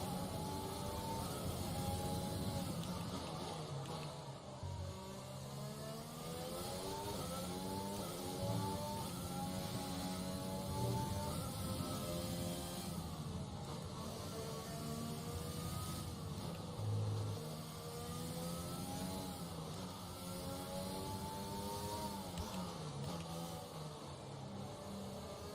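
An F1 2020 race car engine in the video game, knocked into neutral by an accidental downshift, drones steadily with rising and falling revs, loud and continuous, with no talking over it.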